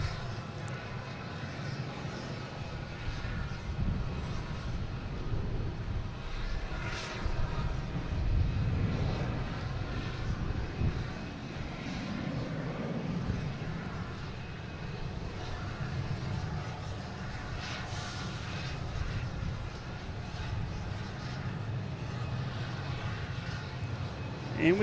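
An Alaska Airlines jet airliner, Flight 1319 bound for Portland, at Boston Logan International Airport, making a continuous broad engine roar that holds steady at a moderate distance throughout.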